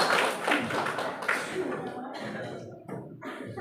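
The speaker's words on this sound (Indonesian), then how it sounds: "Tepuk tangan untuk kalian semuanya" Clapping from a class of participants at a teacher-training session breaks out across the first few seconds, dense and close, mixed with a voice talking and fading toward the end.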